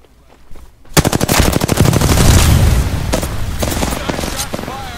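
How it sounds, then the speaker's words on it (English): Loud, rapid automatic gunfire rattles in a video game, opening as a dense sustained burst and then breaking into shorter volleys of shots and impacts. "Shots fired and they're hitting me."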